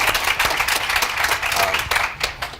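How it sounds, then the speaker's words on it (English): Audience at a panel event claps steadily, a dense, close wash of many hands with sharp individual claps standing out throughout. "Clapping is allowed."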